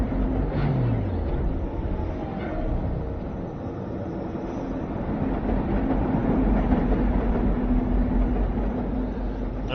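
A train rolls along in a video game, giving a continuous, fairly loud rumbling clatter that stays steady for about ten seconds, with a low tone sliding down at the start and no talk.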